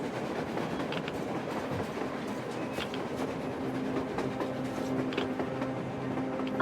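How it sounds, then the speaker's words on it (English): A train rolls past on the surface in the video game Metro Exodus, a steady low rumble with faint rail clatter and scattered metallic clicks, fairly quiet and continuous. "A train! A damn train on the surface!"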